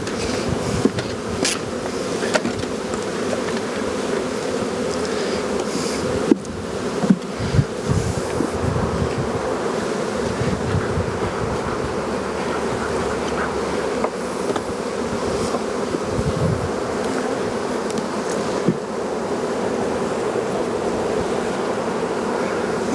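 Honey bees buzz around open hives at a bee farm, a dense, continuous drone of many insects with single bees passing close to the microphone and occasional soft handling knocks.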